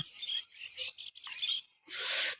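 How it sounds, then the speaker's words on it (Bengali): Several birds calling on a large farm in winter, a series of raspy, scratchy chirps and calls at close range, ending with a harsher, louder burst. "দেখেন পাখি আছে এখানে অনেক ধরনের পাখি আছে বগ আছে"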